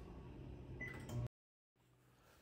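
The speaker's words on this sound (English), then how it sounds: "Now I'm going to microwave the seeds for about 25 seconds just to dry the surface a little bit." A microwave oven drying pumpkin seeds hums steadily up close, then cuts out abruptly to a brief silence before a fainter hum resumes.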